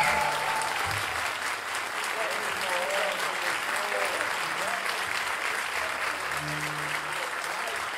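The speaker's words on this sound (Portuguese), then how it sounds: "Uma salva de palmas" Steady audience applause fills the stretch for a samba band playing, with faint voices and brief tones poking through the dense clapping.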